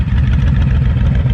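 A Honda Fury touring motorcycle engine idles close by, a loud steady low-pitched rumble with an even pulsing throb.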